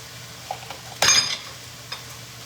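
Sauce pours into a pan of chicken cacciatore with one sudden splash and sizzle, preceded by faint clinks and followed by a softer fading hiss over a low background hum.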